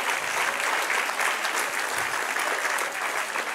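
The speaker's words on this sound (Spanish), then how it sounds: "Dale un aplauso al Señor." A church congregation at a Spanish-language service breaks into full, continuous applause, dense and even from start to finish with no voices standing out.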